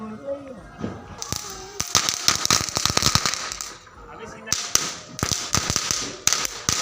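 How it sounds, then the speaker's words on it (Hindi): Diwali firecrackers being set off, a rapid volley of sharp cracks and bangs with short pauses, loud and close, with voices talking underneath. "तो ये पटाखे फोड़ रहा है"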